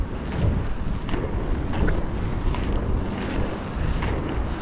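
Wind rushing steadily past while skating outdoors, a continuous broadband roar with gusty swells and a few faint clicks, no voices.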